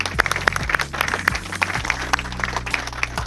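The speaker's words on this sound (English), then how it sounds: "So again, a round of applause for Dennis and Valet." Wedding guests at a waterside venue clap steadily at close range, a dense burst of applause running throughout over a background music track with a low bass line.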